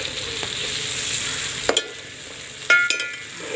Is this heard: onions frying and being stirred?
yes